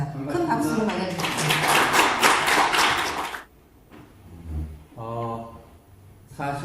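Applause from an audience welcoming a speaker at an economic lecture, a dense burst of clapping for about three seconds that then gives way to someone speaking.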